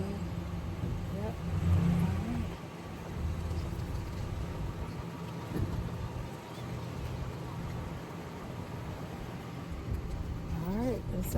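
Car towing a trailer pulls slowly away, its engine droning steadily with a low rumble and a brief swell early on, plus road and cabin noise heard from inside the vehicle.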